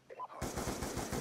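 Fully automatic SMR fire in a video game bursts in after a brief moment of a voice, a rapid, loud, evenly spaced rattle of shots that continues to the end.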